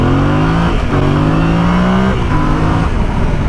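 A 2021 Yamaha Ténéré adventure touring motorcycle's mid-range engine revs and pulls with gruff, rising tones, climbing through a couple of gear changes, loud and close with no voices.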